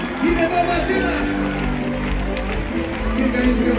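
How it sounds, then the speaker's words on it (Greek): Crowd applauding and cheering at a packed outdoor concert in Veroia, a steady dense wash of clapping with music and voices mixed in underneath. "Χειροκρότημα στη Μύρκα, παρακαλώ, που είναι γερή"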